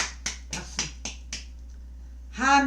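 One person claps their hands in five or six crisp, evenly spaced claps that fade slightly, then stop, followed by a short burst of voice.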